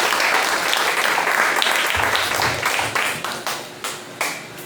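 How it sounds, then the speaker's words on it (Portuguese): A church congregation at a healing service applauds the pastor: dense, loud clapping fills the space, then thins into a few separate, fading claps near the end. "Vamos receber o nosso pastor louvando a Jesus com mais uma salva de palmas"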